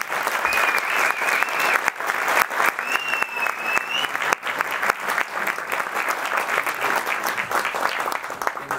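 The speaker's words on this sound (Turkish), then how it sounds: "çok büyük alkışlarla sahneye aldık" Steady, dense audience applause fills a theatre awards ceremony, loud and even throughout with many hands clapping at once and no voices rising above it.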